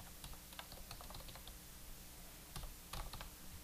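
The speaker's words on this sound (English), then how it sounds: "Okay, I'll type it." Typing on a computer keyboard: quick irregular key clicks, close but quiet, over a steady low background hum, with no talking.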